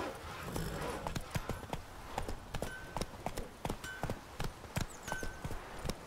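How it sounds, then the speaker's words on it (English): Hooves of the horse Roach clip-clop in The Witcher 3 video game, a brisk, steady clopping gait over ground with sharp close hoofbeats and light background ambience. "Whoa there, Roach."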